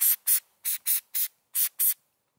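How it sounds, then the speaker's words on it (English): Penetrating oil such as PB Blaster or WD-40 sprayed onto old car headlight connectors in seven short, even hissing bursts, close and loud, separated by silent gaps. "use some like PB Blaster or WD-40. Right on there so you don't snap the connectors."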